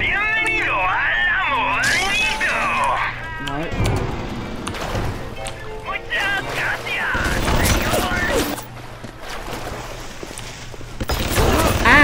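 Enemy gunfire in BioShock Remastered: scattered shots, impacts and mechanical clatter mixed with loud game effects, while a player talks over much of it.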